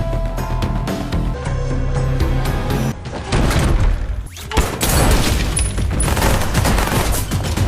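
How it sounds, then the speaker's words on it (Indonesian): Gunfire in a film shootout inside a room fills a dense, loud stretch of bursts and booms under a layer of music, with no clear pauses between shots. "Terjadilah baku tembak menegangkan di dalam kamar"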